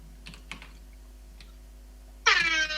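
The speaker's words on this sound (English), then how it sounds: "There'll be some clunky typing for a moment." Clunky typing on a computer keyboard: a few scattered, quiet key clacks spaced apart, then a sudden loud burst of sound near the end.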